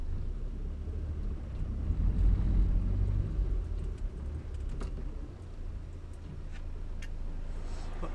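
A Morris Minor on a test drive, its engine a steady low rumble from inside the car with wind and road noise throughout, slightly louder in the middle and easing off near the end.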